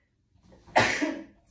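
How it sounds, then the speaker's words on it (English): A single close sneeze erupts after a short breathy intake, sharp at onset and trailing off quickly into quiet. "I knew I had to sneeze"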